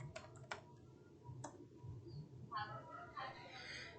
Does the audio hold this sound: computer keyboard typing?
yes